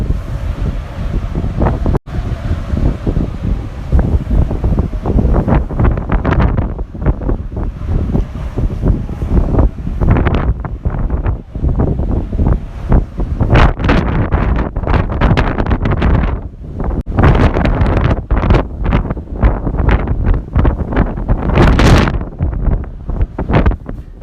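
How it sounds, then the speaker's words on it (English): Strong wind buffets the microphone outdoors at Sumburgh Head in Shetland, near a lighthouse. Loud gusts rumble and roar in long rising and falling surges, with no speech. "It's going to be windy."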